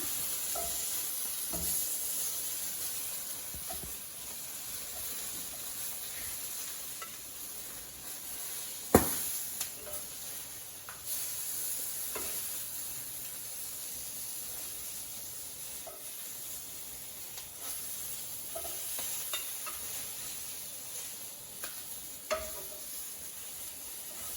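Shishito peppers browning in a pan give a soft, steady sizzle with scattered crackles and an occasional clank or scrape of a utensil, fairly quiet and without voices.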